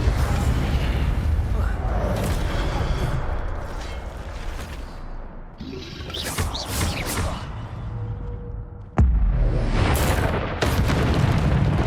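Fiery Incendio spell blasts in the Hogwarts Legacy video game: loud booming bursts with crackling flame noise, several bangs spread through dense game sound, one sharp burst near the end.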